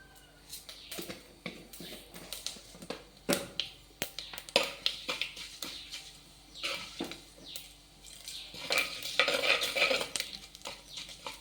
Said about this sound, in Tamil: இப்போ கடுகு பொரியுது